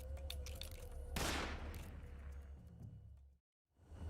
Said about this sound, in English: And we just shoot.